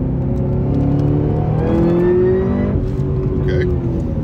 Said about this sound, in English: That engine sounds really good.